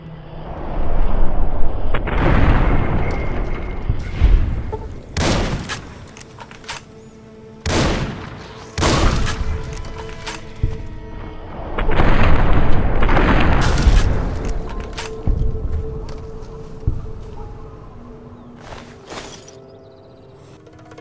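Shotgun blasts fired at feral ghouls in the Fallout: New Vegas video game, a series of loud, booming shots spaced a few seconds apart, each followed by a rumbling decay, with no talk.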